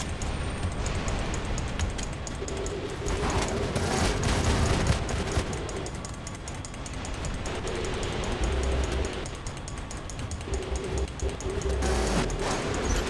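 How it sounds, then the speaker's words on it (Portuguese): Gunfire and explosions in the War Robots PC game, a steady dense barrage of shots and booms running throughout at fairly close range, with no talking over it. "De onde que tá vindo o tiro?"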